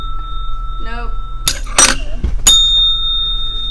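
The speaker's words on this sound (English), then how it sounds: "I just wanted to ring the bell." A bell rings sharply twice, each strike ringing out bright and loud, while a voice talks briefly just before.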